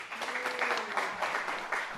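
Audience applause at a cyber innovation conference panel, a steady wash of many hands clapping throughout, moderately loud and dense with no speech on top.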